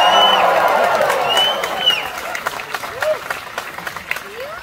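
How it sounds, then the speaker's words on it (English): An audience at a live comedy show at the NYRF 2021 fair cheers, claps and whoops, loud and dense at first, then thinning into scattered shouts. "And the crowd goes!"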